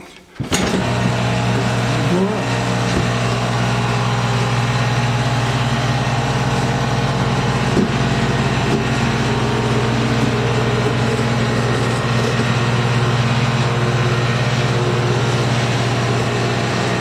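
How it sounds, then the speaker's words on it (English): A DIY home stair elevator's motor runs steadily on a stair landing, a continuous low mechanical hum that holds nearly constant from start to finish. "here you can see the motor on the landing"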